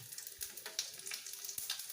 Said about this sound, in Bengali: তেলটা গরম হয়ে এলে ওর মধ্যে আমি অল্প পরিমাণে পাঁচফোড়ন, তেজপাতা আর শুকনো লঙ্কা দিয়ে দিলাম।